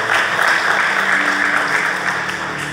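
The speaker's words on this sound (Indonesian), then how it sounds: "Tepuk tangan buat dia." Congregation applause at a church sermon, a dense continuous wash of clapping from a crowd, loud and even for its brief length.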